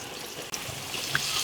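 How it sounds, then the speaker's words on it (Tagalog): Water is poured into a pot of softened mung beans during outdoor cooking, making a short, soft splashing run with a small plop near the end. "Dagdagan ko ng tubig."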